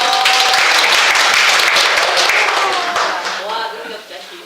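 Audience applause at a lecture in Busan, a loud dense wash of many hands clapping that gradually thins and fades near the end, with voices rising over it toward the close.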